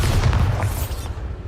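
A Bombarda spell blast goes off in Hogwarts Legacy, a single loud, heavy boom with a rumbling burst that quickly fades away within about a second.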